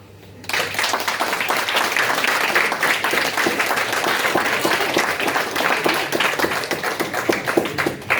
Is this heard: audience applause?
yes